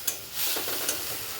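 Ground spice paste of coconut, mustard, poppy seed and green chilli thinned with water hits a hot pan for drumstick-leaf chorchori, giving a brief splash and steady hiss with a stirring scrape, close and moderately loud.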